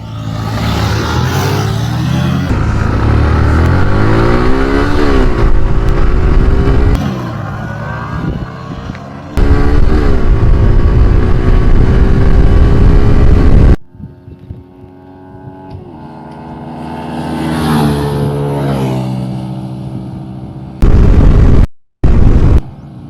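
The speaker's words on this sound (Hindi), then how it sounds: "फिर अपन करते हैं ड्रैग रेस। रेडी? नीरज बोलेगा 1 2 3 गो।" Yamaha MT15 and Suzuki Gixxer motorcycles in a drag race, loud engines revving up through rising gear sweeps and repeated shifts, then a brief drop before the roar returns and cuts off abruptly.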